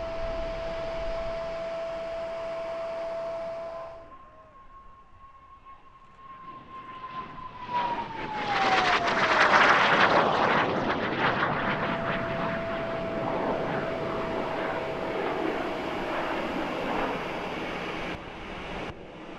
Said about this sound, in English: the first jet aircraft to be designed and built in Czechoslovakia